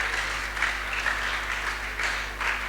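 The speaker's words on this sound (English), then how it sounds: "Let's give him a round of applause." A crowd at a travel and tourism industry event in Ibadan claps steadily for a few seconds, a dense wash of applause with small surges, no voices over it.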